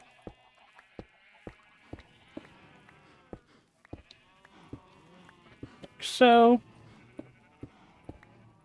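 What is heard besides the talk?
sheep bleating in a video game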